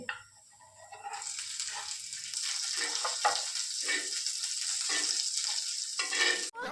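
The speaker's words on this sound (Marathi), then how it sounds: "मी इथे तेल टाकून घेतलं आहे त्याच्यावरती टाकायचं आहे लसूण" Garlic and chilies fry in hot oil, a steady close sizzle that starts after a moment and holds throughout, with soft stirring scrapes and no talking.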